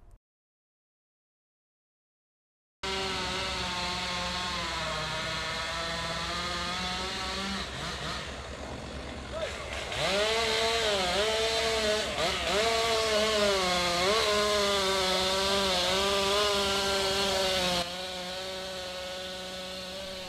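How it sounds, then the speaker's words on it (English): After a brief silence, a chainsaw felling ash trees roars steadily, its engine pitch rising and falling as it revs and cuts, close and loud for the rest. "we heard the sound of a chainsaw"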